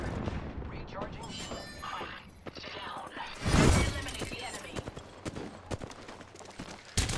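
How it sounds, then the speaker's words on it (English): Gunfire from an Apex Legends match, scattered rapid shots with a louder blast midway, mixed with other game effects and a voice talking over parts of it. "I am taking fire, friend."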